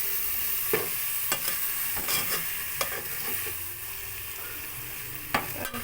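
Three medium-sized sliced tomatoes sizzle and fry in a pan for restaurant-style mushroom biryani, with a steady hiss and several sharp scraping clicks from stirring, close and moderately loud, no voices.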